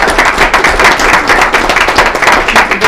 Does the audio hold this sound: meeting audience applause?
yes